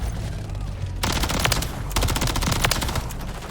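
Dense automatic gunfire from Call of Duty: Modern Warfare 3 gameplay, starting after a quieter second and continuing in loud rapid bursts with sharp repeated shots over a steady game background.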